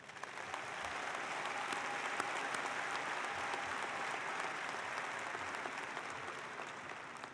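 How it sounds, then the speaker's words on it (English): Applause at an Iowa State University undergraduate spring commencement ceremony, a dense sustained clapping from a large audience in a hall, steady and even for several seconds without talk. "I think that deserves a round of applause."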